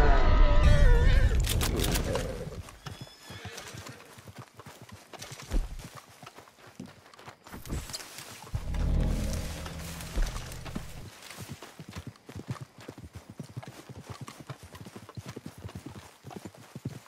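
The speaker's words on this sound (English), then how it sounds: "Let's follow her horse." A horse gallops in the video game Red Dead Online, its hoofbeats running as a quick, continuous clip-clop rhythm that swells and fades over the whole stretch.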